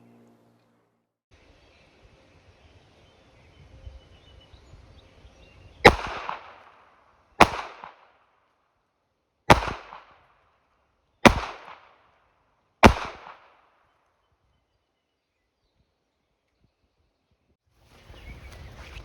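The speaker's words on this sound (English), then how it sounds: "let's try a few shots from 25 yards" Five loud, sharp pistol shots from a Canik Mete SF fired at 25 yards, spaced roughly one to two seconds apart, each with a short ringing decay over quiet outdoor background.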